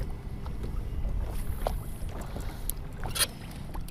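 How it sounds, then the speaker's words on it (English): Gusty wind buffets the microphone in low rumbling surges on a windy day of bass fishing, with scattered small knocks and splashes of water against a Pelican Bass Raider boat. "But it is a windy one today."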